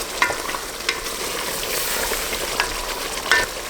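Chicken curry in a handi pot sizzles gently while a spoon stirs it, sending soft scraping clinks at irregular moments over a continuous frying hiss, close and with no voices.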